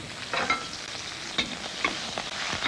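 Ginger, garlic and green onion stir-frying in hot peanut oil in a wok, a close, lively sizzle with several quick bursts as the pieces are tossed.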